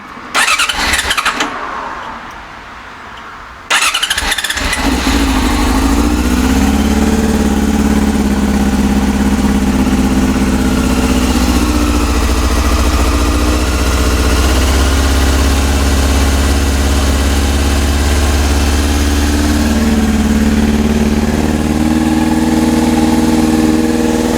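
A Yamaha YZF-R6 motorcycle with new coils and full choke on cranks briefly and catches. Its engine then settles into a loud, steady, close idle that holds evenly for the rest of the clip.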